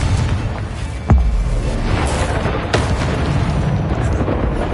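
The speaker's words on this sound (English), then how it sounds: "Bombarda! Expelliarmus! Confringo!" Explosive spells Bombarda and Confringo are cast in the video game Hogwarts Legacy, producing a couple of sharp booming blasts over a continuous rumbling din of combat noise.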